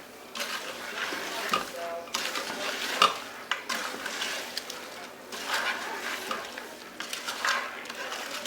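Spiced rice with meat and powdered meat stock being stirred in a pot: repeated scraping and clinking of a utensil against the pot in an irregular rhythm, close and fairly loud, with no talk over it.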